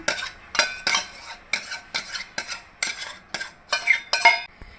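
Chicken being mixed with smooth yogurt for a green chili chicken pulao, a metal spoon scraping and clattering against the pot in about ten brisk, close, loud strokes with no talking.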